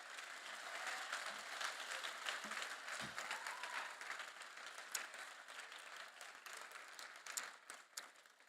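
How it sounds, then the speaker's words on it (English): An audience at a school endowment awards assembly claps in a sustained round of applause, a dense, even patter of many hands heard from within the hall. "Let's give our students a round of applause"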